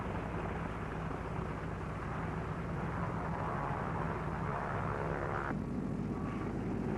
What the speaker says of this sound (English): On board USS Shangri-La at sea, Navy F-6F mother control planes are catapulted from the carrier's flight deck